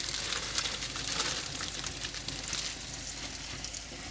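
Food sizzling steadily in hot oil inside a Dutch oven on a cold-weather camp stove, a continuous close crackle and hiss with no pauses throughout.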